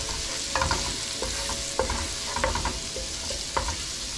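Chopped garlic, three cloves, frying in a pan, a steady sizzle broken by several light spoon scrapes and taps, close and alone.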